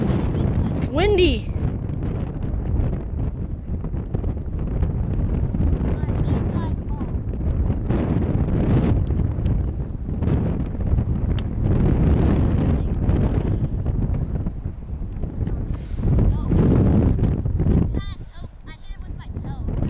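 Strong wind on an outdoor football field buffets the microphone in loud, continuous gusts, with brief moments of talk.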